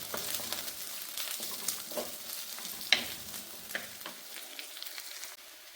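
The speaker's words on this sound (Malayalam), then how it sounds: "എന്നിട്ട് കറിവേപ്പിലും ചെറിയ ഉള്ളിയും കൂടിയിട്ട് ആ വെളിച്ചെണ്ണയിൽ നന്നായിട്ട് വഴറ്റിയെടുക്കാം" Shallots and curry leaves sauté in hot coconut oil for a Kerala-style beef curry, a steady close sizzle broken by scraping stirs and a sharp clack near the middle, with no talking.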